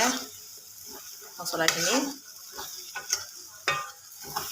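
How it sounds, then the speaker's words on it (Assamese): Butter chicken gravy fries and is stirred in a pan, with a steady sizzle and repeated scraping stir strokes under a person talking throughout. "এতিয়া গ্ৰেভিখিনি ভাজা হ'ব এয়া এতিয়া তাই ভাজি আছে"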